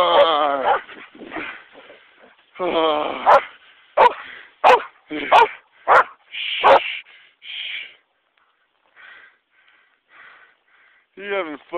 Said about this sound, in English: No more barking, Sadie.